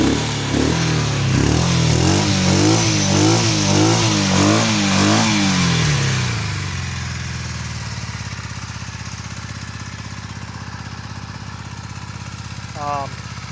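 A 1982 Honda CM450A Hondamatic motorcycle engine with carburetors needing work idles with a pulsing, uneven rumble that settles into a lower steady putter; a voice speaks over it.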